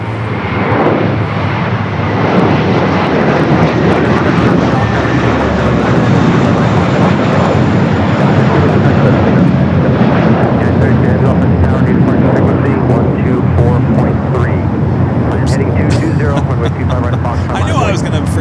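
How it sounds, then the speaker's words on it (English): An Airbus A321 in mint livery takes off, its loud continuous jet roar close and powerful throughout, with people talking over it. "we got that A321, the first mint livery, heading to Boston, now finally taking off"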